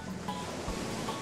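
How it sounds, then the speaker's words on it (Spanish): Ocean surf rolling onto a beach, a steady broadband wash of breaking waves with some wind rumble, continuous and fairly close, with no talking. "¡Finalmente, el océano!"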